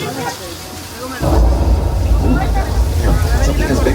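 Artificial rain pours from sprinkler systems on a Hollywood studio tour backlot, a loud, dense rushing downpour with deep rumbling that surges in after a quieter moment and holds steady, with people talking faintly beneath it.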